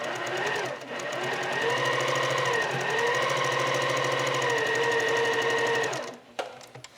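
A sewing machine chain-pieces quilt block units with a steady, fast mechanical whir for about six seconds, then stops, leaving brief clicks and handling sounds.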